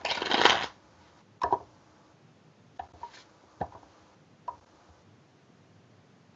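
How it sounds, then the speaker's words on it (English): Playing cards riffled in a push-through shuffle, a brief dense ruffle followed by several sharp taps and squaring knocks spaced about a second apart, close and fairly quiet. "I use a push through shuffle, so I'll show you what that looks like first of all."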